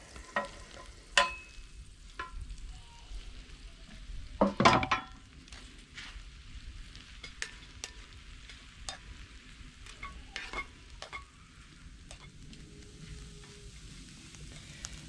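Breadcrumbs frying in oil inside a Petromax Dutch oven, a soft steady sizzle broken by spoon scrapes and a few sharp clinks, mostly quiet and close.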